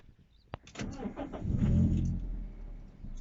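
Toyota Celica engine rising as the car sets off, a short click followed by a swelling, close rumble that holds steady, with no talk over it.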